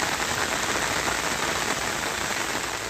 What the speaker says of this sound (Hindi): सिर्फ बारिश की आवाज है और चारों तरफ सब कुछ खुद में समेटे हुए पानी।